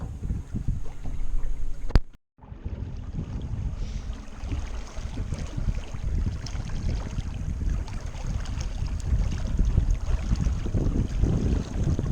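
A boat motor drones steadily while wind buffets the microphone and water rushes past; the noise cuts out briefly near the start.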